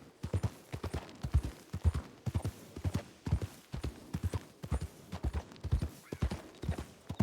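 Horse hooves clip-clop steadily in a video game, a close, even four-beat walking rhythm of hollow knocks repeating throughout without voices.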